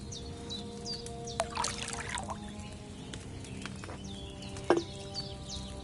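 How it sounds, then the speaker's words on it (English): Liquid is poured into a cauldron in the video game Kingdom Come: Deliverance II. A soft, faint pour and trickle sits under outdoor ambience with chirping birds and a couple of small knocks, and no one speaks. "Pour it in there."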